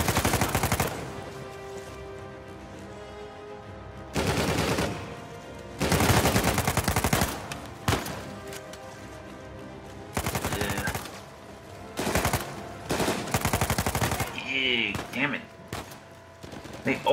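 Bursts of enemy gunfire in Uncharted 4, loud volleys of rapid shots that come and go in irregular clusters, with short quieter gaps between them.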